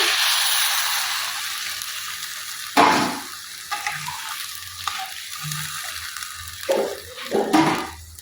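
Water poured into a pan of potatoes frying whole with green chillies, a loud sizzling burst when the water hits, then bubbling and a few clattering stirs, with no talking.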